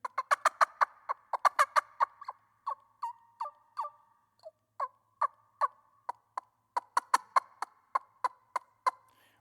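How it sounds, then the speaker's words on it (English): Rapid runs of loud, sharp yelps and clucks from a cane turkey call with carbon fiber arrows inside, rising and falling in bursts with short pauses between, close and clear against silence. "this is a type of cane call, but it has carbon fiber arrows inside it, and it sounds like this."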